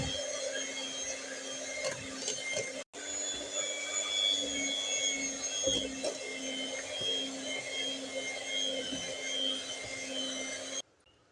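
An electric hand beater whirs through cake batter for a strawberry sponge cake as flour is added little by little. The steady, close motor whine holds for about eleven seconds, with one brief dropout, then cuts off at the end.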